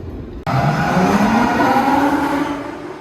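Red Force, the launched roller coaster at Ferrari Land, fires off after a sudden onset into a loud, sustained rushing roar with a rising whine that fades slightly toward the end.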